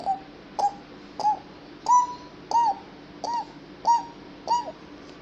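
A voice imitates a pigeon with eight evenly spaced, close, moderately loud cooing calls, each a short rising-falling hoot.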